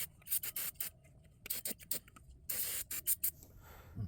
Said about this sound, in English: Right now, I'm spraying off the caliper with some brake cleaner before I install it.